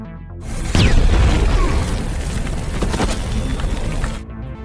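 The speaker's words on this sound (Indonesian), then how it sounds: "ia pun memilih mati, dengan cara meledakkan granat di tangannya" A hand grenade explodes in a woman's hand during a film scene: one loud, booming blast swells into a dense, rumbling roar that lasts about four seconds before cutting off.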